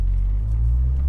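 Honda S2000 fitted with a new loud aftermarket exhaust, driving in daytime: a steady, low engine and exhaust drone with road rumble, continuous and close for about a second, no talk.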